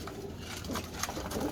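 A teddy pigeon coos softly at close range, with low repeated murmuring calls over a faint background hum.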